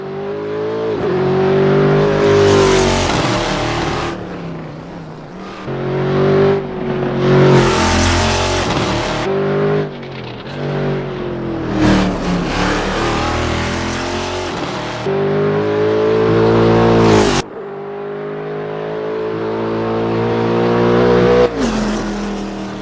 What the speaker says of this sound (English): The sounds are on par with the best of anything you've ever heard in sim racing